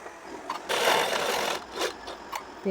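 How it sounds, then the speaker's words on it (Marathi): A sewing machine runs a short burst of topstitching along a blouse neckline, a steady close whirring stitch that rises, pauses briefly and resumes, with no talk. "वरून आपल्याला दाब शिलाई मारून घ्यायची आहे"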